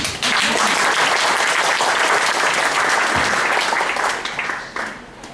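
Sustained audience applause at a Buddhist Dhamma seminar, loud dense clapping from a crowd that carries on for several seconds before tapering off.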